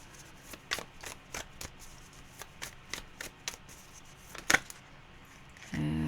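Tarot cards being shuffled in a quiet room, a series of crisp riffling slaps and flicks at an irregular pace, close and clear, ending with a louder rustling burst.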